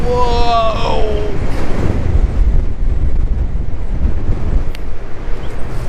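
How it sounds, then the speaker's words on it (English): Strong gusting wind buffets the microphone during a fishing outing in a huge wind storm near the water, a loud continuous roar throughout, while a person's voice briefly rises at the start. "This wind is horrible."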